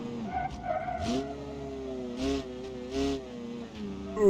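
A car engine in BeamNG.drive, on the Endurodrome track, whines and shifts pitch steadily, with several loud skidding screeches breaking through in bursts.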